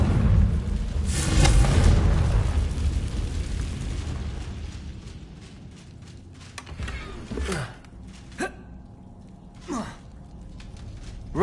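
A Confringo blasting spell in Hogwarts Legacy goes off as a loud rumbling explosion that swells and fades over several seconds, followed by a few short whooshing magical bursts.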